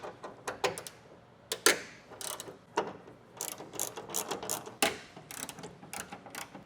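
A ratchet clicks in quick, close bursts while a bolt is removed from the bed rail of a Toyota Tacoma truck, each run of clicks separated by short pauses, with no talk.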